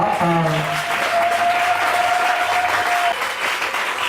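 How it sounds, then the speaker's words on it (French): A church congregation at an evening service in Pointe-Noire applauds loudly for the Lord, a dense sustained roar of clapping with shouts and a long ringing cry rising over the crowd. "Est-ce que tu peux acclamer très fort pour le Seigneur?"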